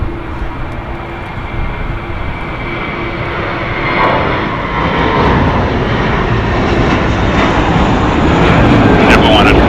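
A jet airliner rolls for takeoff on runway 25 left at Los Angeles International Airport, a loud broad engine roar that builds steadily in strength across the span, with radio voices talking over it.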